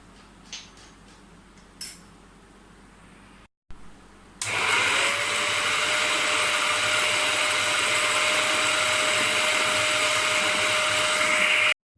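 An electric food chopper finely minces chicken for nuggets. A few clinks and a short pause come first, then the motor kicks on with a loud, steady high whine that runs unbroken to the end.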